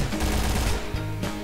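Rapid gunfire in a shooting video game, a burst of loud, closely spaced shots that stops abruptly, then a brief second burst.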